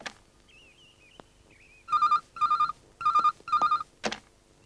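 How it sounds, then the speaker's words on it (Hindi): A telephone ringing in an electronic tone: four evenly spaced double bursts after a short stretch of beeping, loud and close, with no talk. "जुगनू, राजू को फोन लगा।"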